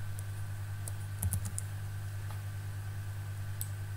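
A computer keyboard gives a few sparse, light key clicks during spreadsheet data entry, set against a steady low electrical hum.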